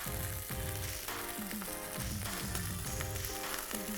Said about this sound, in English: we fry them for about 2 minutes on each side